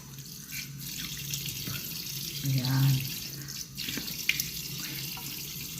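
Water runs from a hotel bathroom sink faucet as a face is rinsed with warm water, a steady close splashing stream with brief louder surges of hands scooping water, and a short spoken word over it.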